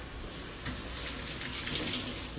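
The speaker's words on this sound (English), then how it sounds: "Wash your hands." Hands being washed under a running kitchen tap, a steady close hiss of flowing water that swells slightly as the hands move through the stream, with no talking.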